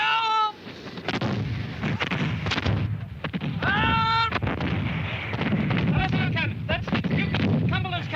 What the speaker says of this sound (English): Cumberland's cannon.